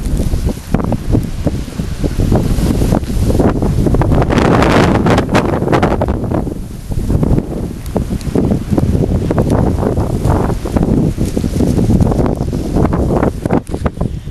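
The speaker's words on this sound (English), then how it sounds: "Yes, you guys know that wind is strong, very strong." Strong, gusting wind roars steadily through a snowstorm in Chatham, buffeting the microphone with broadband rushing noise that swells and dips in waves for the whole stretch, with no talk over it.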